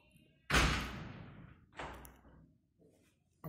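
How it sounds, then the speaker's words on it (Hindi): A caravan door fitted with a pleated mosquito mesh is shut with a solid thud, followed by a second, softer knock about a second later, close by and without speech. "अब दरवाजा बंद कर।"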